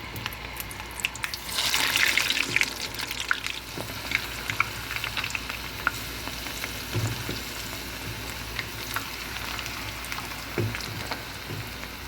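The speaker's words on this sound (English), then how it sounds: "Since the oil is very hot, let's slowly put in our fries." French fries go into very hot oil, and a busy crackling sizzle swells and then holds steady as they fry, with scattered pops and faint stirring noises close by and no talking.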